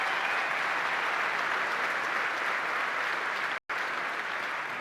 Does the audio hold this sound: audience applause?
yes